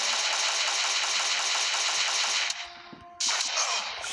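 Rapid automatic gunfire from a mobile 2D Stalker-style shooter on Android, a loud continuous burst that breaks off briefly and then resumes.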